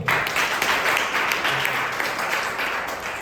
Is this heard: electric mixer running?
no